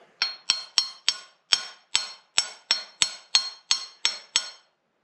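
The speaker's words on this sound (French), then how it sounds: "j'ai que un vieux marteau qui en plus est en train de mourir, le manche" An old hammer with a failing handle strikes about a dozen sharp, ringing metallic blows in a steady rhythm, close and clear, each hit decaying quickly into silence.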